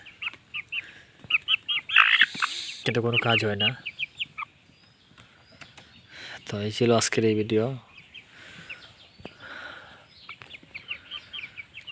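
A watercock calls loudly twice in harmonic, rooster-like bursts, with someone talking before, between and after the calls.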